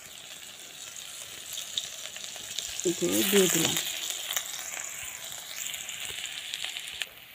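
Ginger and garlic paste hits hot oil for a fish curry and sizzles sharply, then settles into a steady frying hiss with some stirring, close by, with brief speech.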